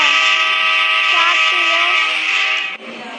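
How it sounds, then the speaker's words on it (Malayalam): A steady, loud train engine horn blares from a locomotive in a 3D video game, holding one long sustained tone for nearly three seconds before cutting off abruptly into a faint background hum. "ഈ ട്രെയിൻ എൻജിൻ"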